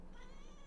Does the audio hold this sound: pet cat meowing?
yes